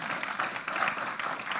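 A church congregation at a Christian community service applauds in a short, continuous wash of clapping. It sounds moderately loud and diffuse, with no voices on top.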